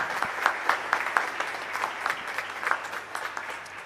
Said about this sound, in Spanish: Creo que son merecedores de un fuerte aplauso.